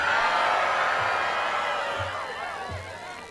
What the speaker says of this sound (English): thank you for cheering